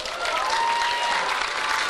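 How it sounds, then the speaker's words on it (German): Short burst of applause from basketball fans in an arena, dense steady clapping at even volume throughout with faint crowd noise mixed in. "Bitte ein kurzer Applaus"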